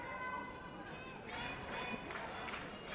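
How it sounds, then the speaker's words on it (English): The Sumitomo Mitsui team cheering for Yamagishi at a judo Grand Slam match in Tokyo, a steady wash of crowd shouts and chanting heard from a distance, continuous and fairly faint. "This is the Sumitomo Mitsui team cheering for Yamagishi here."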